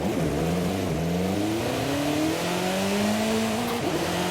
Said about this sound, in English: What we do have is a wonderful 2 litre, so let's just go ahead and turn the car around and go ahead and take a listen.